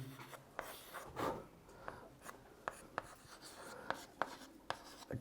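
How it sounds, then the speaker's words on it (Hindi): Pen scratching out notes during a chemistry lesson, a quiet close-up series of short strokes and taps in an irregular rhythm with no talking. "तो अब लिख लेते हैं इसमें थर्ड पॉइंट"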